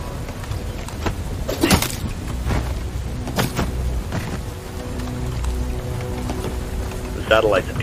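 Steady rain pours across a surface in the video game Bright Memory: Infinite, a loud continuous hiss with a few sharper impacts and a brief electronic tone near the end.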